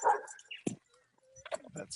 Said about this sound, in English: I can hear somebody's dog.